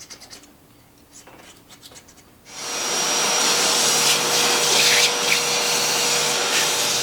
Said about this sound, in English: After a few rounds of scraping and vacuuming